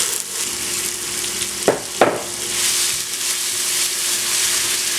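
Ginger and garlic sauté in ghee for beef korma with a steady, close hiss and sizzle, and two brief scraping stirs partway through.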